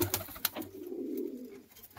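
Andhra pigeons coo close by in a low, throaty, rolling call that swells and then fades within about two seconds, with a few soft clicks and rustles at the start.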